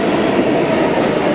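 A New York subway train rides toward the Wall Street station, giving a steady, loud, continuous rumble and rattle of cars on the rails with no breaks.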